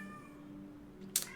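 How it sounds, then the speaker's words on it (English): A house cat lets out one sharp, loud meow near the end, cutting through an otherwise quiet indoor background with a faint steady hum. "Sorry if you can hear my cat in the background."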